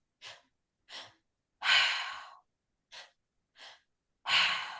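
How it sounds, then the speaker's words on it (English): Deep breathing in a repeating pattern: two short inhales then a long, forceful breath out through the mouth, repeated twice, close and alone. "You breathe into your belly, you breathe up into your chest, and you exhale through the mouth."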